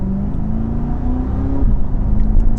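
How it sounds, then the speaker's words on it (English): A 2022 Chevrolet Corvette 1LT Z51 engine revving in track mode, a loud close steady drone with a rising pitch that dips and climbs again toward the end. "If I go into track mode here, really boosts up the revs"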